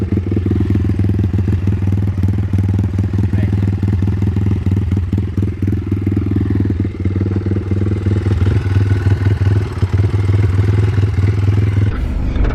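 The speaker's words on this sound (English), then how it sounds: "it's with the loud exhaust, so it's pretty loud" A dirt bike engine fitted with a loud aftermarket exhaust runs loud and steady with a deep, throbbing exhaust and rattly clatter, cutting off abruptly near the end.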